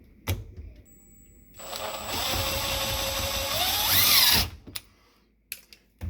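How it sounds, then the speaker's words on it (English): A power drill whirs steadily for a few seconds, its pitch rising as it bites into a wooden cabinet, then stops abruptly; faint clicks before and after. "And you're going to drill into the cabinet."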